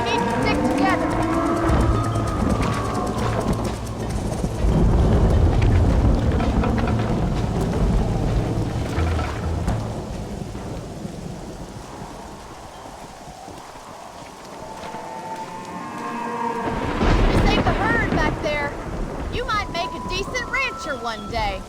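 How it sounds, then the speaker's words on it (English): Steady rain pours through a thunderstorm in the Red Dead Redemption game while riders move cattle toward a ranch, a continuous wash under spoken dialogue, with a louder rumbling swell near the end. "The storm's getting worse."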